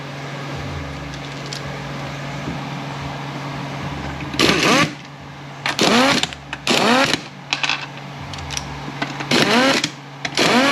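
A power tool tightens 10 millimeter bolts on a motor stator case. Several short, loud whirring bursts rise and fall in pitch over a steady low machine hum, with pauses between each run.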